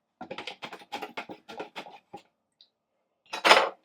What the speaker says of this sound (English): I know you wouldn't normally stir with a knife